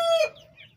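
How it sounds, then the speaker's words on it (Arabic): A rooster among chickens gives one short, loud, close cluck, a sharp nasal note that quickly fades into faint background noise. "ده طبعا الديك اللي هنا"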